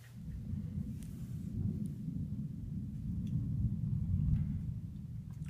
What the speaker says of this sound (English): Of course there's gonna be a goddamn severe storm.